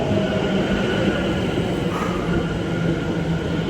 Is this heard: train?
yes